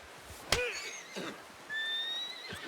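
A horse whinnies twice in the video game Red Dead Redemption 2, a sharp snort-like neigh followed by a longer, higher drawn-out whinny, close and clear over faint background ambience.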